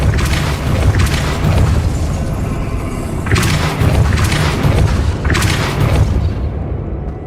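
A Depulso force spell in the video game Hogwarts Legacy lands as a series of heavy, booming impacts with rumbling bursts, loud and close, fading toward the end.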